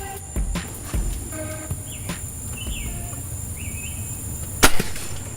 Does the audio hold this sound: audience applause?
no